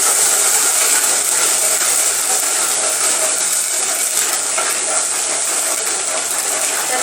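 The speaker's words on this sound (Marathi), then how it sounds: "त्याचा चांगला तेल सुटेपर्यंत आपण भाजून घ्यायचा आहे मसाला तेलात" Masala with turmeric and salt frying in oil, a steady close sizzling hiss that runs unbroken and fairly loud throughout.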